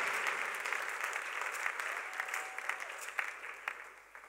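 A congregation applauds during a Sunday church service, sustained moderately distant clapping that swells and gradually thins out, with faint voices beneath.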